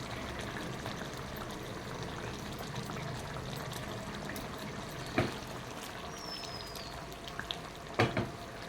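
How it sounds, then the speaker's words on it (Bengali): Ghee goes into a hot pan of chhanar dalna, a Bengali paneer curry, making a steady close sizzle with a few faint clinks and soft taps near the end. "এখানে আমি হাফ চামচির মতো একটু ঘি দিয়ে দেবো"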